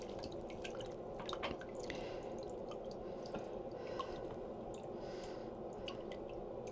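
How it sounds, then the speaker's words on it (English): Water draining from a newly installed kitchen sink, a faint, steady gurgle with scattered small drips and trickles, heard close and alone. "Still draining."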